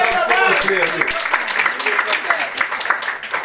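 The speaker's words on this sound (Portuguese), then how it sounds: "Salva de palmas" Round of applause from an assembly audience, clapping dense and sustained under overlapping talk and murmur throughout.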